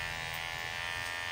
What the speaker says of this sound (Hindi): यहाँ पर मैं ट्रिमर लगा दिया हूँ